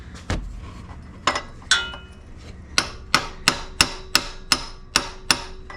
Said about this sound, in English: so I just need to tap that back out of the way